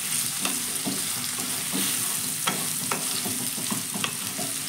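Potatoes frying in a pan for vegetarian ghugni are turned over with a spatula, giving a series of irregular scraping knocks on top of a continuous, steady sizzle.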